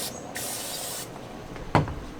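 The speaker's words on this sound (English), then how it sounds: "add a little oil. I like to use olive oil. Add it straight here to the bristles." Olive oil sprayed onto the bristles of a grill brush away from a charcoal grill, heard as a loud airy hiss lasting under a second, then a softer spritz and a sharp close tap, with no talking.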